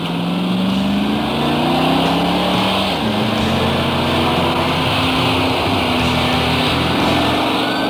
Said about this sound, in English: try some upshifts at 3/4 throttle to see how the shifts get firmer with throttle